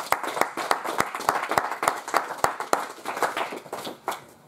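A church congregation at a healing and miracles seminar clapping in quick rhythmic unison, crisp regular hand claps, close and lively, thinning out toward the end.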